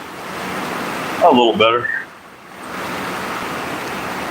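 Heavy rain pours steadily outdoors as a dense, constant hiss, with someone briefly speaking over it partway through.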